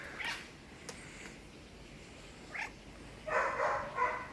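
A pet cat gives a few short, faint meows and chirps, scattered and a little distant, over a soft background hiss.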